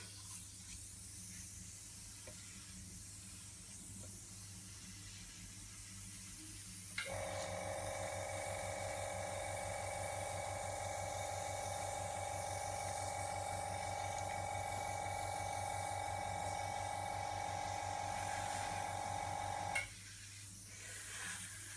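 An airbrush sprays Daler-Rowney ink with a steady hiss and faint whine that starts abruptly, runs unbroken for about thirteen seconds and stops, quiet and close in an otherwise hushed room.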